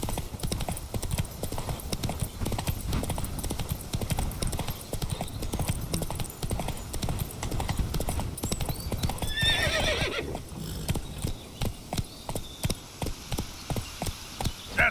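Roach, a horse in the video game The Witcher 3, gallops with a fast, steady drumming of hooves throughout, and a loud neigh cuts through the rhythm partway along.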